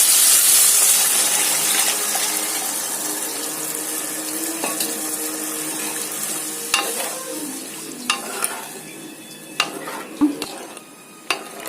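Tamarind water is poured into a hot pan of sautéed onion and tomato for a pomfret fish curry. A loud sizzling rush at first fades to a softer bubbling hiss, with a few sharp utensil clinks near the end.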